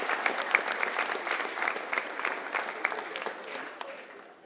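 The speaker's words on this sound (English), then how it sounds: "a big round of applause for our leader" A crowd at a high school college signing ceremony gives sustained, lively applause, many hands clapping in a thick continuous wash that tapers slightly toward the end.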